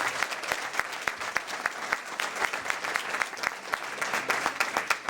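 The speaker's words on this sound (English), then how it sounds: "So maybe we could have a big round of applause for the Cable 8." A banquet crowd at a girls basketball awards night claps steadily. Individual sharp claps stand out clearly from a moderate, fairly close audience.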